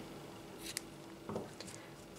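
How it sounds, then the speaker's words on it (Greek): Scissors cutting a crochet cord, a couple of soft close snips over a quiet background hiss. "Κόβω το κορδόνι μου"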